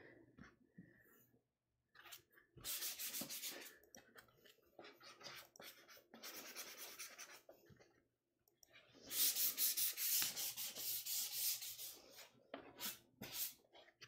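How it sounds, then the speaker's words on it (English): A sanding sponge scrubs a painted surface smooth in close, hissing strokes, coming in bursts with short pauses, the longest rubbing stretch near the end. "I'm sanding the whole thing so that way it's nice and smooth"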